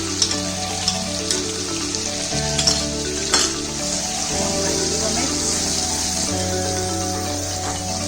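Onion paste sizzles loudly in hot oil alongside garlic paste for Punjabi chole, a dense close crackle with a few sharp spits and scrapes, steady throughout with a low hum underneath.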